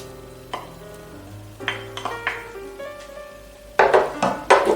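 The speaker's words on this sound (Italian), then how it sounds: "e mescoliamo tutto insieme" A spoon stirs meat ragù and mozzarella together in a pan for cannelloni, with scraping, soft clinks and wet knocks that grow louder and busier toward the end.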